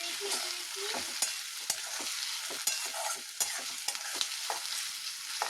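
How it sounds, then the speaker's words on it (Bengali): Chopped onion and garlic frying in a pan, a steady close sizzle with repeated sharp scrapes and clicks of a stirring spoon against the pan, no voices. "এটা একটু ভাজা ভাজা হোক।"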